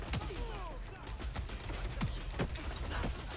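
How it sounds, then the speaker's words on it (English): Scattered gunshots in the game Watch Dogs: Legion, several sharp cracks spread unevenly over a busy background of whooshes and din, moderately loud with no speech. "They're gonna start shooting at me!"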